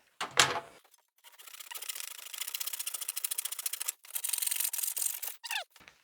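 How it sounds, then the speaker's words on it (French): A hand saw rasps through pallet wood in rapid back-and-forth strokes, close up, pausing briefly once before continuing, with a short squeak near the end. "On va passer le côté dur à la scie à la main, ça coupe mieux."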